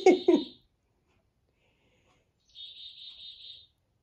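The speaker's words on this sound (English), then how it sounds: "You're hearing my husband's bird clock." An electronic bird clock chimes a recorded bird call, a clear repeated high warble lasting about a second indoors, following a brief voice at the start.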